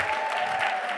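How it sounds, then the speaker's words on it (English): Audience clapping at an education symposium session, a dense, steady round of applause from a seated crowd, even and moderately loud with a faint tonal hum underneath. "Give yourself a round of applause."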